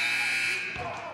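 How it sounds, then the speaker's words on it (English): A loud, sustained electronic buzzer sounds at the end of a high school boys' basketball game between Valley and the Cromwell Panthers, holding steady before tapering off, mixed with gym noise and commentary. "One more shot for Cromwell at the buzzer."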